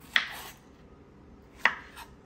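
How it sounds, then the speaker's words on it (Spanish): Two crisp knife strokes through fresh strawberries on a board, about one and a half seconds apart, each a sharp close chop with a short rasp afterward, in a quiet kitchen. "lo único que tienen que hacer es quitarle la hojita a esta y partirlas en dos pedacitos"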